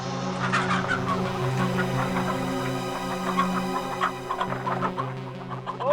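Chickens at a poultry farm clucking and squawking in a dense overlapping chorus, steady and fairly close, with a low hum beneath and no voices.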